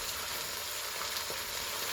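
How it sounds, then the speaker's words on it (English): Chuck roast searing in a hot pan for an Italian pot roast, giving a steady close hiss of sizzling fat that runs evenly throughout with no talk. "oh, you can hear that sizzle"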